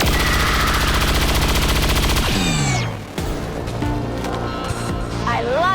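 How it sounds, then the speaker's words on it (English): Automatic weapons fire in the video game XCOM 2, a dense rapid burst of shots for about two seconds over a loud game soundscape, then a sweeping tonal effect and continuing background noise. "Taking hostile weapons fire."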